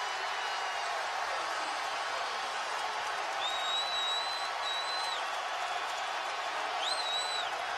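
Basketball arena crowd roaring after a three-pointer in an Iowa State versus Kansas game, a broad steady wash of cheering and applause with a few whistles cutting through, somewhat distant.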